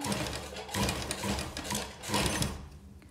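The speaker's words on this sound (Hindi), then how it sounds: "यहाँ पे बिल्कुल इस लाइन के ऊपर सिलाई लगाएंगे" A sewing machine stitches along a line on folded fabric strips for a palazzo pant design, running in steady, fairly quiet rapid bursts that pause briefly in between.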